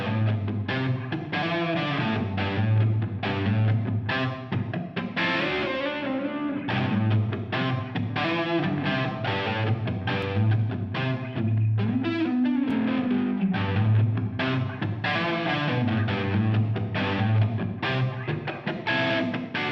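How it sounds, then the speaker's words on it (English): A heavily distorted electric guitar plays chunky, saturated rock chords and riffs at a steady loud level, with thick, fuzzy valve overdrive, harmonic distortion and soft clipping throughout. "adding a lot of harmonic distortion and a soft clipping effect"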